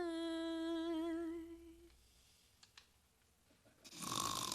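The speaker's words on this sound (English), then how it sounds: "you're snoring again." A person snores with a long, wavering, droning tone that fades out, followed by a few faint clicks and then a rough, breathy snort. The snoring is quiet and close, with no talking.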